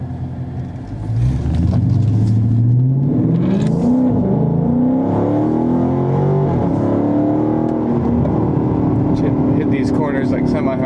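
A Dodge Charger Scat Pack roars up a mountain road as the engine revs rise and fall through gears, loud and close from inside the car, with voices talking over it.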